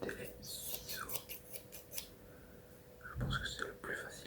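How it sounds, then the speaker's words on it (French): Scissors are handled close to the microphone with soft snips and metallic clicks, alongside quiet whispering in an intimate setting. "donc c'était les ciseaux"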